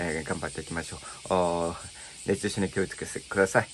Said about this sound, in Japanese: 皆さんまたセミの声が鳴いてますけど